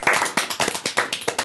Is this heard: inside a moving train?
no